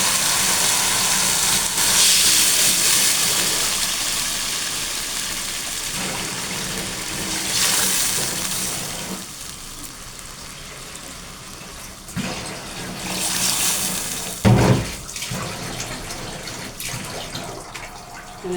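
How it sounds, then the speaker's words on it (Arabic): Water poured from a vessel into a cooking pot while making Egyptian lentil soup, a broad rushing hiss that swells and eases across the pour, with a couple of knocks near the end, close and fairly loud, no voices. "نحط المية بتاعتنا بقى زي ما انتوا شايفه."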